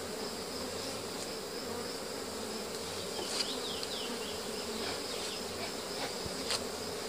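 Honey bees swarm at an open beehive during a honey super's removal, a dense, steady buzzing that fills the space close by, with individual bees whining past now and then.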